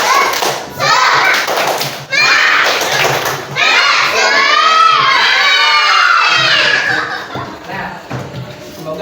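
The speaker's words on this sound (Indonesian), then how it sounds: "Sekali lagi, tepuk semangat." Indonesian primary schoolchildren in a classroom at SDN Sungai Miai 11 shouting a spirit clap chant together, loud and close, with rhythmic claps and thumps under energetic group voices throughout.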